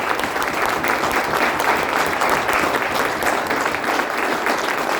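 Sustained loud applause from a large crowd, dense and steady throughout.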